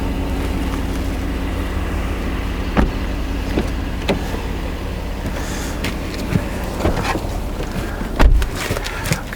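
A 2018 Mercedes-AMG GLC63 engine idles steadily with a deep, continuous rumble, heard close and alone, with a few faint clicks and knocks over the constant hum.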